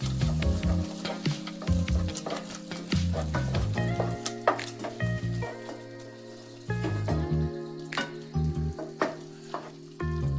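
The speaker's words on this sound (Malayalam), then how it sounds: "ഇനി നമുക്ക് ഇതിലേക്ക് ഫ്രഷ് ക്രീം ഒഴിച്ചു കൊടുക്കാം. ഇനി മിക്സ് ചെയ്ത് കൊടുക്കാം." Paneer butter masala is stirred in a pan after fresh cream goes in, with loud, close spoon scrapes and clanks in an irregular rhythm over a steady simmering sizzle. A low hum comes and goes, and there is no speech.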